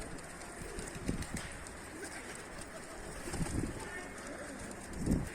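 Pigeons cooing outdoors, soft low coos recurring every second or so against steady wind-like background noise.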